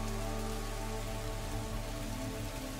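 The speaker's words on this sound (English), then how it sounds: "Still raining" Steady rain pours down on a surface as background ambience for a tabletop role-playing game session, a continuous dense hiss with a low rumble underneath, holding constant throughout with no one speaking.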